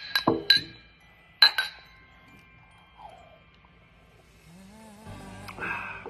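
Several sharp glass clinks from a toast with cups of eggnog, two quick bright taps followed by another a second later, close and ringing briefly, then quiet shuffling and faint murmurs.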